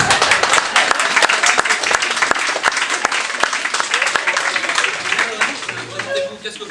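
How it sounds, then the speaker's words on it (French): Loud, enthusiastic applause erupts from an audience at a spoken-arts performance evaluation show, with dense continuous clapping and faint crowd voices and laughter mixed in before it tapers off. "Applaudissez bien fort"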